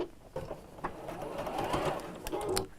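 A sewing machine stitches along the lined-up edges of fabric pieces for a drawstring pouch with appliqué, a steady close mechanical whirring that runs nearly the whole time with brief pauses near the start.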